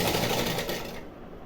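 Brief whirring burst of a sewing machine stitching a blouse sleeve, close and steady before tapering off near the end.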